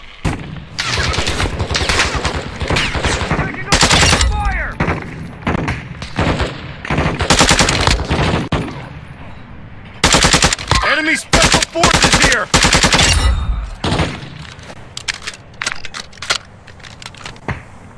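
Sustained machine gun fire in the video game DMZ, loud repeated bursts over about eighteen seconds with short pauses between volleys and brief talk mixed in.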